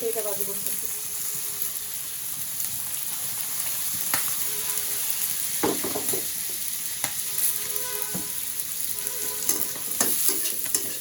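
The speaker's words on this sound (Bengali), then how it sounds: "হালকা করে ভাজবো আর এদিকে মাছের কি অবস্থা মাছ ভাজি হয়ে গেছে প্রায়" Fish frying in a pan gives off a steady, close sizzle, broken now and then by light clicks and scrapes of a utensil against the pan.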